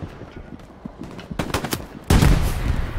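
Gunfire in the Hell Let Loose video game: scattered distant shots crackle, then a loud, close burst of rapid fire erupts and continues.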